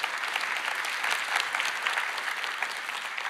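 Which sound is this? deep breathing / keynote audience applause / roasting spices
keynote audience applause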